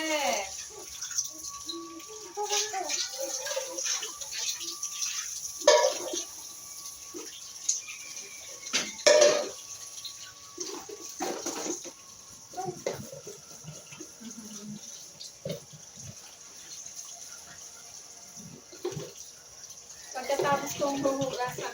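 Baby bottles being washed under running water at a sink, with intermittent splashing and dripping at close range and occasional bursts of water flow.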